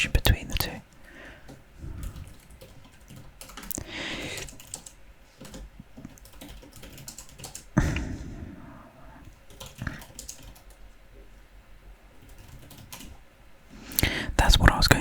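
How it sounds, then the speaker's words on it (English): Quiet keystrokes patter on a computer keyboard in irregular bursts, close and soft, with whispered speech drifting in between and over the typing. "If you're wondering what I'm typing in."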